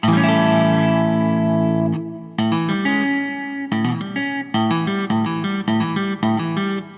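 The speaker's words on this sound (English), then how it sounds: "the 5th degree becomes a dominant chord, which sounds like this." Distorted electric guitar playing a dominant seventh chord: one long ringing chord that fades, then a series of short, choppy restruck chords in a steady rhythm, loud and close.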